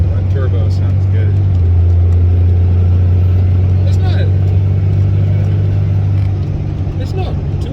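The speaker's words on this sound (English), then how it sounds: "Oh, that turbo sounds good." A loud, steady diesel pickup truck engine drones from inside the cab while accelerating, with a low rumble and turbo whine under the road noise.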